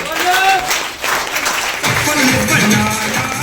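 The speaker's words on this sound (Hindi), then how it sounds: "एक बार जोरदार तालियां दोस्तों इन दोस्तों के लिए" Applause from an audience at a network marketing event, a crowd clapping loudly nearby that swells partway through, with a voice speaking over it and music-like tones mixed in.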